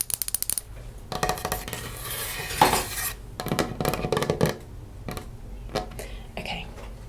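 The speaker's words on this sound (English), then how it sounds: "And quite a thin piece of plastic. And then of course it's a knife" A thin plastic knife is tapped and scratched up close: quick clusters of light clicks and scrapes, with rapid taps at the start and scattered scratchy bursts after.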